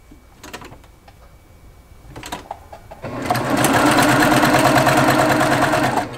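Sewing machine stitching calico quilt pieces in a continuous chain without cutting the thread, starting with a few short bursts, then running fast and steady, loud and close.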